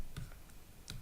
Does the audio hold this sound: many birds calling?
no